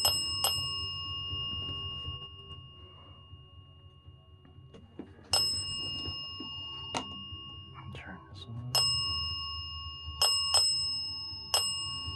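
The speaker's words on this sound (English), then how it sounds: "can you make the bell quit for just a minute?" A toy bell rings in repeated bright jingling bursts, several sharp rings spread across the span with quiet pauses between, over a low steady background hum and faint whispery noise in a supposedly haunted setting.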